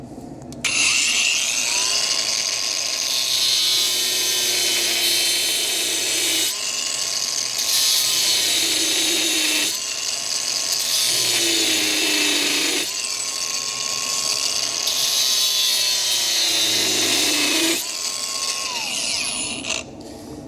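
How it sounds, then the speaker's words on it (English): An angle grinder whines steadily while cutting metal on a Unimog during a blown-gearbox rebuild, its pitch rising and dipping in several long passes with brief pauses between cuts. "Now what we need is my old mate Gary the grinder."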